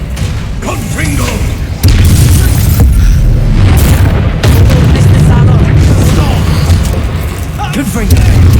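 The Confringo fire spell explodes in the video game Hogwarts Legacy, with loud, heavy booming blasts that repeat over a dense, continuous wash of game noise while voices call out.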